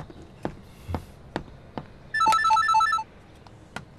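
A telephone rings indoors in a single short electronic trilling burst, loud and near, with soft footsteps tapping before and after it.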